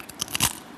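Close, loud crunching bites into crispy honey-coated potato chips made from fried domestic potatoes, a few sharp crackling bursts within under a second with no talking.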